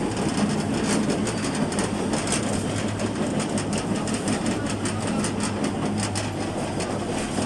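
Interior of a moving city tram on route 22, with a steady loud rumble of wheels and motor and faint rhythmic rail clatter running throughout, no talking.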